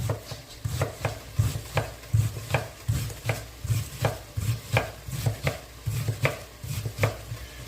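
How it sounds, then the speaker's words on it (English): A knife chops an onion on a cutting board with quick, evenly spaced thuds, about two per second, close and clear over a quiet kitchen with no talking. "we'll continue cutting the onion"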